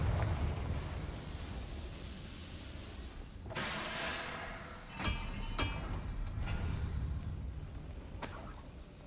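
A Confringo fire spell in Hogwarts Legacy detonates in several loud, fiery blasts with a roaring burst near 3.5 seconds and more around 5 and 8 seconds, over a constant rumbling game background.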